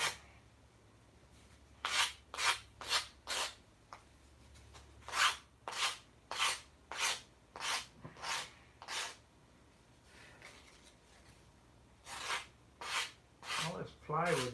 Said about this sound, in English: I've been sanding all day, and here I'm sanding at night.